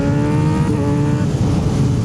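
A Kawasaki Ninja 636 motorcycle with a quick shifter runs as a loud, continuous, close engine drone with a steady pitch, filling the short stretch alone with no talking.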